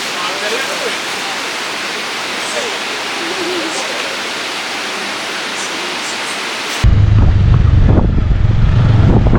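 Athirappilly waterfall in the rainy season gives a steady, broad roar of rushing water that fills the scene, then turns louder and closer for the last few seconds, with a low rumble of wind buffeting the microphone.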